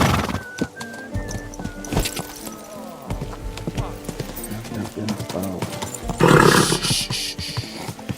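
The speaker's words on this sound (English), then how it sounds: "Easy, good horse." A horse in Kingdom Come: Deliverance II whinnies and snorts amid hoof clatter and game noise, with a louder burst of rough snorting near the end.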